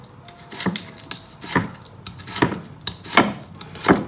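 A knife cuts an onion into rings on a board in a home kitchen, giving about eight crisp, separate chops at an uneven pace, close and moderately quiet, with no talk.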